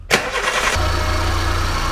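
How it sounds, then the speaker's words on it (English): A Toyota Conquest 1300 with a freshly replaced cambelt and tensioner cranks briefly, catches, and settles into a steady, close idle. "with all the covers back on, we're going to start the car now."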